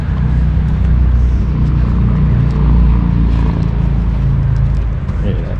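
Loud, steady engine rumble from a car at a Nissan dealership in Elk Grove, likely the new Nissan Z, droning close by for several seconds with faint voices underneath.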